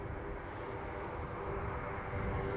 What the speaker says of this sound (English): A321 going to Madrid.